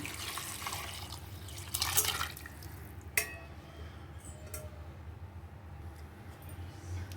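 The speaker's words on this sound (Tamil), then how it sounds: "இப்போ இதில் கறி வேக வச்சுருக்க தண்ணியை சேர்த்துக்கிறேன்." Meat cooking water pours and splashes into a pot of mutton curry, a steady watery trickle with a couple of clinks, quiet and close.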